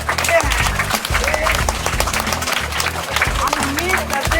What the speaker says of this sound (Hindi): देर तक ताली बजाइए।